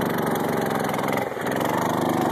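Mini bike's small engine running steadily right after a pull start, a loud, close, buzzing idle with an even pulsing rhythm and a brief dip in the middle.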